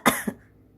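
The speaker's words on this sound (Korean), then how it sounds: "근데 너 왜 지금 기침해?" A person coughs twice in quick succession, a sharp loud burst followed by a softer second cough, close by with no talk around it.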